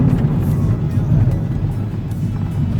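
A Hyundai i20 engine drones steadily from inside the car while driving, a continuous loud low rumble with no clear rev peaks, filling the whole stretch on its own.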